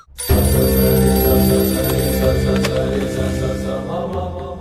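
A telephone rings steadily and loudly with a rich, sustained electronic tone that continues for several seconds with no talking.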